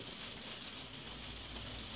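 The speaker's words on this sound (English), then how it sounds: "I hope you can hear me okay with the rain." Rain falls steadily outside, a dense, even hiss of drops that continues unbroken and fairly faint throughout.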